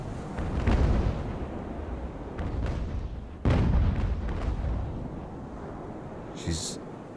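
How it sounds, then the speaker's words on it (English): Cannon fire in the naval game Ultimate Admiral: Age of Sail: deep booming shots, one early and a sharper, louder blast midway, each followed by a rumbling tail, with battle noise between. "She's dodging and weaving through the cannon shot."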